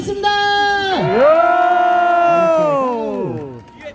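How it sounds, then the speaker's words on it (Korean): A street-busking crowd in Hongdae, Seoul, lets out a loud, close, sustained group shout of cheering that rises, holds for a couple of seconds and then trails off. "환호 소리가 너무 작은 것 같아."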